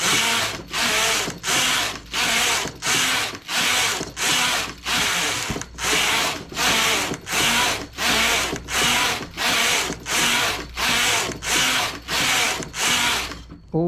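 A knitting machine carriage knits rows of a short shoulder cape, sweeping back and forth in a steady rhythm of about twenty loud, close mechanical passes with brief pauses between, no talking.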